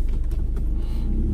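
A VW Golf GTI tuned to 275 hp rumbles with a deep, close engine drone, a brief throaty rev swelling and fading in a short burst without talk.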